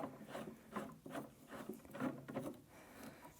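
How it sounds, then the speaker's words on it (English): Handle knob on a Combo Chair being tightened by hand during assembly: a close series of rhythmic scraping, rubbing turns with a woody, rasping texture, with no talking. "I'm going to continue tightening the knob now"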